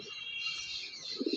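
A twenty-year-old pet pigeon gives a short, soft coo near the end, low and close, over a faint steady background hiss.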